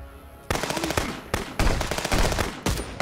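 Bursts of rapid automatic gunfire from the Contraband Police video game, several loud volleys separated by brief pauses.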